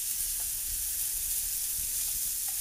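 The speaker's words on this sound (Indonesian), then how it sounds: "Aduk sampai tercampur rata." Food sizzles steadily in a pan as mushroom stock powder and sugar are stirred in, a close, continuous hiss with faint scraping knocks from the stirring.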